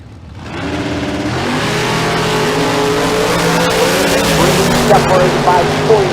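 Drag racing cars launch down the Famoso Dragstrip at a bracket race, engines roaring up and climbing in pitch as they accelerate away, loud and sustained throughout.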